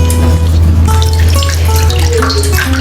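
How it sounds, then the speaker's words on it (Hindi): Vegetables being washed in a bowl of warm water give a steady, loud run of splashing and trickling water with no pauses and no talking. "अभी हम इसमें सारे वेजिटेबल्स अपने धुल लेंगे"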